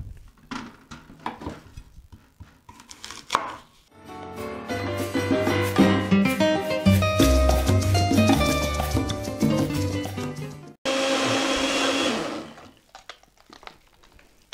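A kitchen blender grinds apple and pear pieces for an apple-pear-cinnamon smoothie, a loud, steady whirring motor over several seconds, then a brief harsher roar before it stops, with soft kitchen clatter around it.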